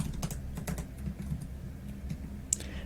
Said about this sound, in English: So last name is from the customer table, so we type c.lastname is equal to Martin.